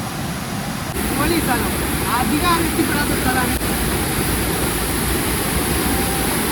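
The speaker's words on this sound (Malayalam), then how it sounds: "നാല് ഭാഗത്തുനിന്ന് വെള്ളം ചാടുന്നുണ്ട്" A forest waterfall in Salalah, Oman, with water pouring down from four sides, roars in a loud, steady rush close by while someone talks over it.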